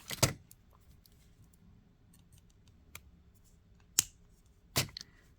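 Scissors snip excess thread from a handmade beaded necklace in a few sharp, isolated clicks, with one at the start and two more near the end. The snips are close and crisp over a quiet background.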